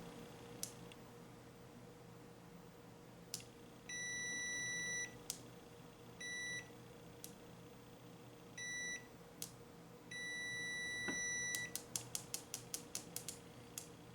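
A WinAPEX 128C multimeter in continuity-test mode sounds its buzzer: several short, high, thin beeps of uneven length, some held about a second, ending in a rapid flurry of stuttering chirps, quiet and close with faint clicks between.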